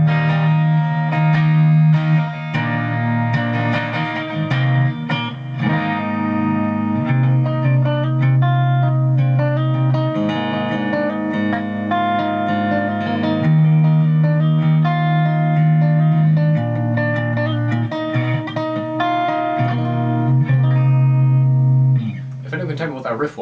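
An Epiphone Nighthawk Custom reissue electric guitar plays a long riff through its second pickup position on the 5-way blade, with chords and single notes shifting steadily, loud and close, before cutting off near the end.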